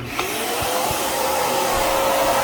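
A small carpet edge cleaning vacuum machine roars loudly and steadily up close, a harsh whooshing whine with a few bumps as it is moved around.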